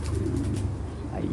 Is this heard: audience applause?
no